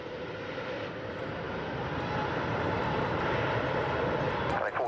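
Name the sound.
airplane taking off from runway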